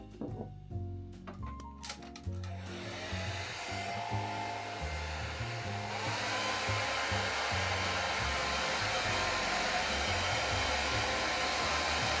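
A hair dryer blows while hair is being dried, starting after some brief knocking and handling noises, then a loud, steady rushing roar that continues to the end.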